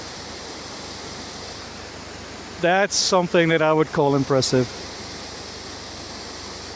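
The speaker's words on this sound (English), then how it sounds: "It doesn't matter where you look, waterfalls everywhere." Constant roar of rushing water from a nearby waterfall swollen by last night's rain fills the whole clip, with someone briefly speaking over it partway through.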